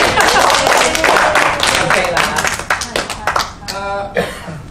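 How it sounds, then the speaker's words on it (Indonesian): Hands clapping at a group gathering, a dense burst of claps running alongside speaking voices, then thinning into a few scattered claps near the end. "Jadi tepuk tangan Bonjai."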